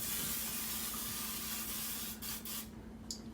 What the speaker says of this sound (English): spray on there, a little olive oil